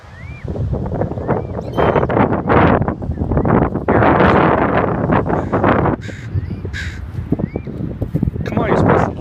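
Seagulls near Depoe Bay, Oregon give several loud, close caws and squawks over strong wind buffeting the microphone, while people talk throughout.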